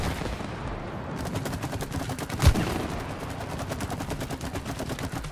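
Rapid gunfire in the video game It Takes Two: a fast, regular burst of repeated shots, with one louder heavy blast partway through, then the rhythmic firing continues evenly to the end.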